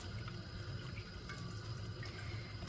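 Water draining off boiled yufka pastry sheets for Turkish water börek, a steady trickling and splashing that runs unbroken and fairly loud the whole time, with no talking over it.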